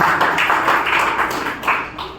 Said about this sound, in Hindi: श्री SG पांडे सर के लिए मैं चाहूँगा जोरदार ताली